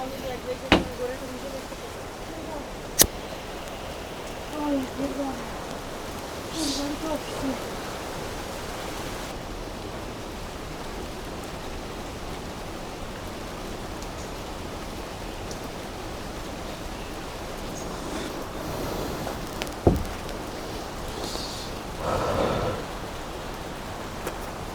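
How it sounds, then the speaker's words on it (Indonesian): Light rain patters steadily outdoors near a waterfall in northern Bali, a soft continuous wash with scattered faint bird chirps and a few distant voices underneath. "Seperti inilah suara alam, suara burung, suara rintik hujan."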